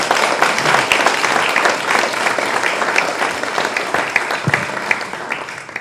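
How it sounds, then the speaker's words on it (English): An audience applauds after a panel discussion on sustainable spirits, loud dense clapping that starts strong and gradually thins, with individual claps growing more distinct near the end. "I just want to give a quick round of applause"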